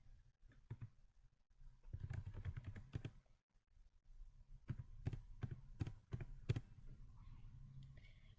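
Soft, quick keystrokes on a computer keyboard come in short bursts separated by pauses, with a few louder single taps, faint and close in a quiet room.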